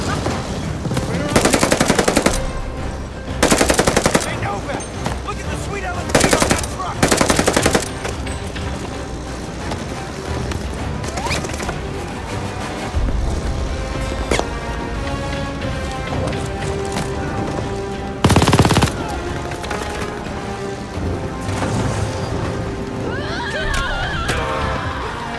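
Bursts of PPSh submachine gun fire in Call of Duty: Vanguard, several loud automatic volleys spread through the stretch over a busy game soundscape of ambient noise and music.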